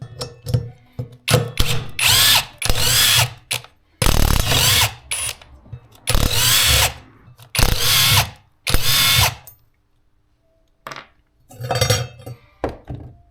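A power tool spins out the Allen-head sprocket bolts on a Yamaha DT 125 wheel during a restoration, in short loud whirring bursts separated by pauses, followed by a few quieter bursts at the end.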